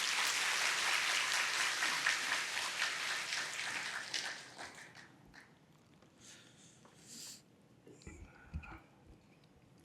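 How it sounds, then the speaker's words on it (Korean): A church congregation at a Korean Sunday worship service claps to welcome the pastor to the pulpit. The applause is dense and sustained for about four seconds, then fades into scattered claps and room noise. "박수하시겠습니다."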